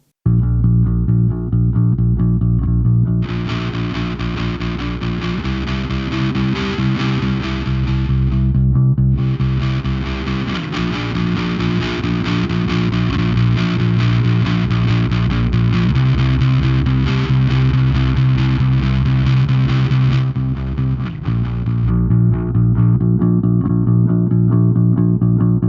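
Bass guitar played through a Safari Pedals Cobra Fuzz pedal gives thick, loud, buzzing sustained notes that shift pitch every few seconds, with a gritty fuzzy top layer that cuts in and out across a long stretch of playing.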